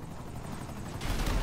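Helicopter rotor roar in a GTA video game, a steady broadband whir that swells louder near the end amid game action, with no talk.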